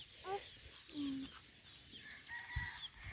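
Chickens cluck and squawk on a chilly farm morning, short scattered calls near and far with an occasional louder fowl cry over faint background noise.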